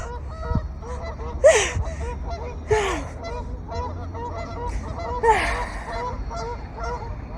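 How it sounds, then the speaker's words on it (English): Several loud goose honks ring out at intervals over a steady low background rumble, with fainter calls from geese and ducks scattered between them. "I think the geese and ducks are all pissed because we don't have no food for them."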